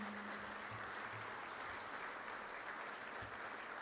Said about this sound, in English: Please give these gentlemen a round of applause.